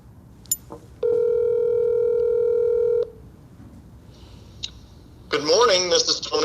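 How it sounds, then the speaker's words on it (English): A phone call being placed: a steady two-second dial tone, then short dialing beeps, followed by a voice starting to speak at the end. "I need to phone a friend."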